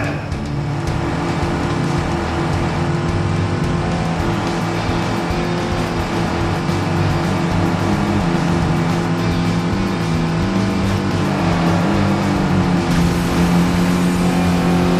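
Race cars accelerating around a track in the Cars Race-O-Rama video game, engines droning and revving continuously and loudly over game music, with occasional tire squeal and no talk.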